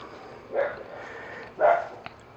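A dog barks twice, spaced about a second apart, somewhat distant over a low steady background hum.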